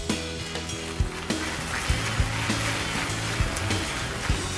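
Sliced onion sizzles and fries in a pan with a splash of wine while caramelizing, a steady close hiss broken by repeated clacks and scrapes of a utensil stirring it, with no one talking.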